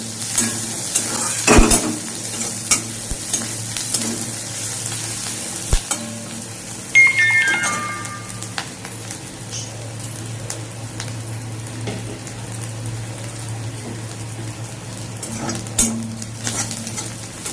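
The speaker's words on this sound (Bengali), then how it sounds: "পেঁয়াজটা একটু ভাজা ভাজা হবে।" Chopped onion frying in oil in a pan while cooking Bengali bata fish curry, a steady close sizzle running throughout with a few sharp clinks and stirring scrapes of a utensil.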